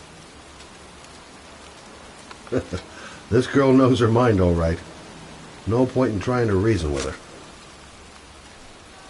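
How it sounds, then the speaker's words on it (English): Pouring rain falling in a cemetery in a video game, a steady hiss running throughout beneath a voice speaking in two short bursts. "It's cold. It's raining."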